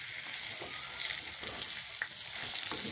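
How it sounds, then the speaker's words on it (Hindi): Chicken fries in a pan, a soft, even sizzle with faint stirring ticks, fairly quiet and steady. "अब हम सबसे पहले चिकन को फ्राई करेंगे।"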